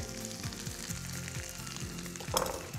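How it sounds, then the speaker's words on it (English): Spinach with a little garlic frying in a pan that already holds scallops, a steady close sizzle with soft stirring and scraping knocks through the clip and a brighter burst of spitting near the end. "Just move the spinach around inside your pan."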